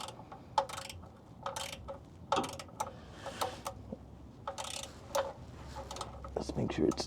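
Ratchet wrench tightening an oil drain plug during an oil change, a series of short metallic clicking bursts in uneven runs, moderately close amid low background noise.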